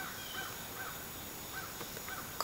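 Crows cawing outdoors, a few faint, spaced calls over steady background noise, with a short sharp knock at the very end.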